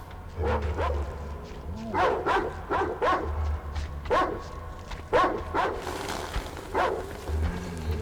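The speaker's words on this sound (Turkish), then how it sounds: "Aha, köpekler." Several dogs bark and yip in short bursts across the scene in the video game Metro Exodus, fairly close, over a steady low hum with faint game background noise.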